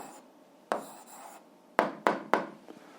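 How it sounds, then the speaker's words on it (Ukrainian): A hand writes out an algebra answer on paper: a soft scrape followed by several short, sharp pen strokes in quick succession, close and quiet. "записуємо відповідь, пишемо відповідь"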